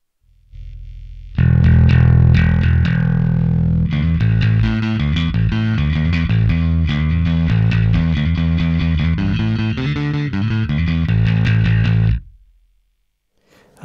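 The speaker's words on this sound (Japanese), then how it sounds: "このぐらい上げてあげることによって歪みもするんですが、ミドルレンジも上がってくると、そういうことですね。" An electric guitar played through a SansAmp pedal with its drive raised gives a loud, thick distorted tone, strummed chords and riffs ringing steadily for about ten seconds before stopping abruptly.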